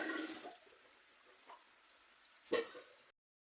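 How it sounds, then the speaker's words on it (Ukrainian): Boiled chicken gizzards are tipped into a colander so the cooking water runs off, starting with a brief splashy pour, then a quiet trickle and a second short splash before it stops. "Ось сюди я так перекладаю і вода стікає."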